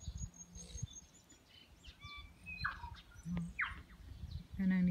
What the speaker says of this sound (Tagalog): Kanang nitingog nga ibon.